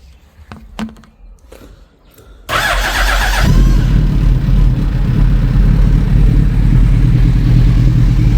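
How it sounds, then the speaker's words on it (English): A Suzuki Hayabusa motorcycle, just serviced, cranks and fires up after a few faint clicks, then settles into a loud, steady idle that stays close and continuous. "So it's the first time that we're actually going to start the bike."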